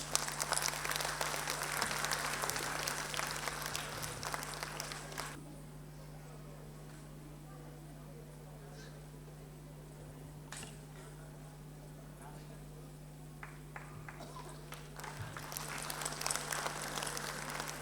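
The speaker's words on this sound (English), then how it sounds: "Round of applause, parents." Audience applause at a school annual day event, a broad crowd clapping that fills the opening five seconds, drops to a quiet hall, then swells again near the end.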